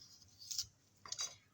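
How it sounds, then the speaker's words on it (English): A knife chops through a carrot on a cutting board in two quick, crisp strikes about half a second apart, close and clear with nothing else audible. "I'm putting the tip of the knife down and then chopping down with the back of the knife."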